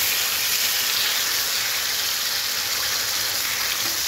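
A paste of onion, ginger and garlic fries in a hot pan for a home-style Indian chicken dish, making a loud, even, unbroken sizzle and hiss from start to finish, with no voices.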